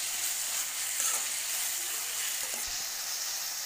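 Onion and tomato frying in oil for a Coimbatore-style onion chutney, giving a steady, close sizzle with a faint stir or scrape near the end and no talking.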